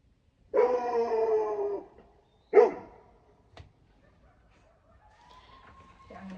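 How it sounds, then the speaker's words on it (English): Coyotes howl at dusk beyond a livestock ranch: a long wavering howl, then a shorter yelp, a brief knock, and a thin, faint, rising howl later, all distant and with no talk. "You hear those coyotes?"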